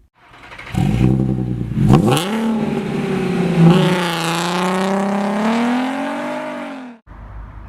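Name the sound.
Jeep driving, towing a car trailer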